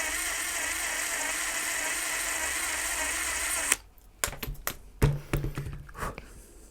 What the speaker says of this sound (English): So I'm trying to get a bit closer to that with the drill.